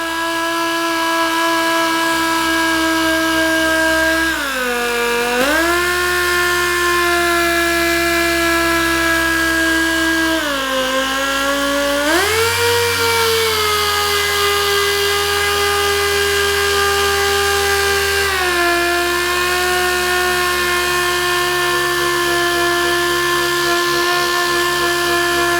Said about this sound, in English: I'm using 320 grit on the DA.